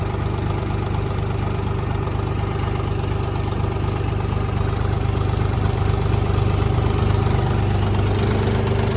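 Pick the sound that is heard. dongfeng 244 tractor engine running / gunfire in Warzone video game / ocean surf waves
dongfeng 244 tractor engine running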